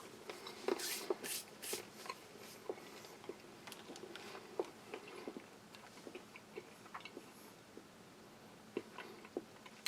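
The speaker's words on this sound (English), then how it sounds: "Certainly need a lot of chewing." Someone crunches and chews a trail mix of beans, nuts and raisins from a Latvian army combat ration, giving quiet, close, irregular crackling bites and mouth sounds over a faint background.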